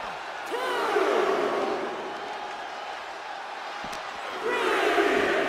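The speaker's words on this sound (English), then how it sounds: "Alexis King playing to the crowd now" Arena crowd in WWE 2K25 wrestling game cheering and roaring as a wrestler plays to the fans, a sustained wash of noise that swells louder at the start and again near the end, with a commentator talking over it.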